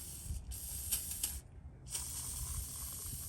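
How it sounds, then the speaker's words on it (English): WD-40 is sprayed near the crankshaft position sensor on a 2009 Toyota Corolla engine: two close, sharp hissing bursts separated by a brief pause, with faint mechanical handling underneath. "use a little bit of WD-40"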